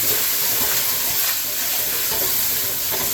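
Fried rice sizzles hard in a new Babish wok, a loud, continuous, close hiss that holds steady throughout without any talking.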